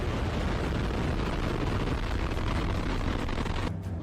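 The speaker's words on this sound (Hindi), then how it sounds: "रूस की इस नई लॉन्च मिलिट्री मिसाइल को देख लीजिए" A new Russian military missile launching, with a dense, continuous roaring blast that stays loud and unbroken before cutting off abruptly near the end.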